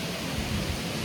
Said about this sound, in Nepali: बालीमा चाहिँ पानी परिरहेछ होइन।